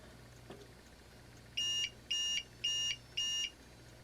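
A UPS switched to battery backup after being unplugged gives four evenly spaced electronic beeps, each loud and sharp and lasting about a quarter second, with no talking over them.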